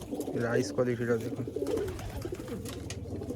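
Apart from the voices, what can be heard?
Malwai pigeons cooing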